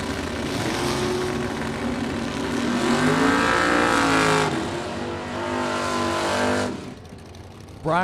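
At a drag strip a 1957 Chevy Bel Air and a 1978 AMC Pacer launch with loud roaring engines that rise in pitch as they accelerate away, then fade before another engine note cuts in.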